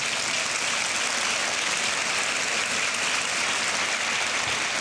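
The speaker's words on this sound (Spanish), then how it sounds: "¿Cuántos le pueden dar un aplauso al Señor?" A church congregation applauds in steady, dense, continuous clapping that fills the whole stretch at an even, fairly loud level, with no voices standing out.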